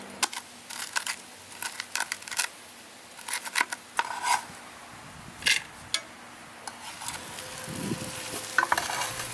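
Pumpkin and apple frying in a skillet while a pumpkin pizza is made, a steady soft sizzle broken by repeated scraping and stirring strokes of a utensil against the pan, close and with no talking.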